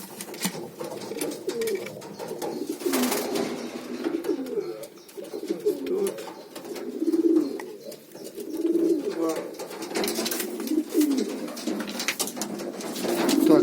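Pigeons coo continuously in a loft, their soft, rolling calls overlapping close at hand while someone talks in the background.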